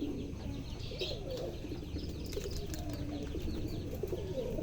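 A mother pigeon with her chicks, cooing in low, rolling phrases close by, with a few faint chirps mixed in against a steady background.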